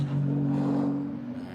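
A Ferrari Challenge race car accelerates out of the final turn at Mugello, a steady loud engine drone with a strong low tone that holds throughout and eases slightly near the end.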